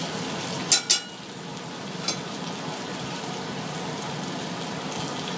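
Butter cooking in a pan for brown butter, a steady soft sizzle and crackle throughout with a couple of sharp clinks near the start, no talking.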